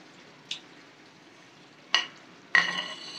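Mutton karahi stirred in a pan after lemon juice goes in: three separate scraping, sizzling bursts, a short one early, then two louder ones, the last trailing into a brief sizzle.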